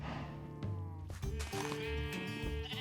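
Sheep in a Minecraft modpack let out several close, loud bleats that overlap, with a few short calls in quick succession.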